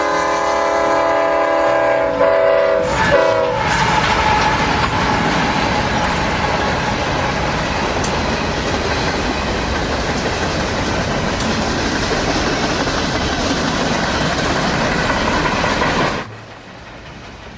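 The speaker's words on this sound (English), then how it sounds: "here comes Kansas City Southern, train" Kansas City Southern freight train M266 passes close by in hot Louisiana weather, its horn blaring loudly at the start before a long, steady roar of rolling cars and clattering wheels, cutting off sharply near the end.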